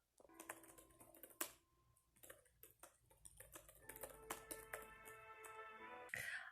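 Fingers type quickly on a computer keyboard, a close, fast, uneven patter of key clicks with brief pauses, very quiet overall.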